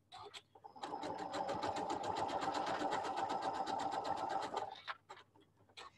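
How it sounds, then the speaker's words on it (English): A sewing machine runs steadily for about four seconds stitching an open decorative stitch, its rapid needle strokes forming an even mechanical chatter, with brief soft handling noises before and after. "I picked quite an open stitch so that it stitches a little bit faster"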